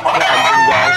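Chickens at a large poultry farm in Depok, Indonesia, cluck and crow in a loud, close, dense chorus of overlapping calls with no talk.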